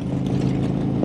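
Harley-Davidson Road Glide motorcycle engine running steadily, a close, moderately loud low rumble with a slight mechanical clatter, heard alone in a brief moment.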